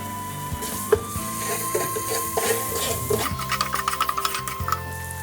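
Garlic and ginger drop into a hot pan already holding cumin seed and asafoetida for a one-pot vegan khichdi with steel cut oats, giving a steady soft sizzle with scraping stirs and a few sharp utensil clinks, no talk.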